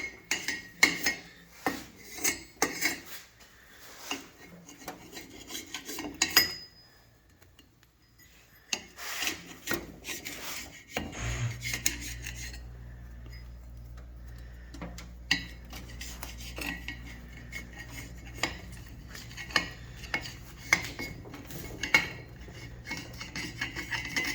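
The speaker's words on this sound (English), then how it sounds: "this is a carbide tool we got off Amazon. And we're going to use to scrape off the gasket real quick and simple" A carbide scraper rasps gasket material off a Subaru EJ25 cylinder head in short repeated strokes up close, pausing briefly, then continuing over a low steady hum.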